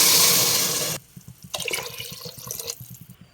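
A spoonful and a half of water hits a hot pan while fenugreek-seed sambar is being made, giving a loud, close burst of hissing sizzle that cuts off after a second, followed by softer bubbling and spatter.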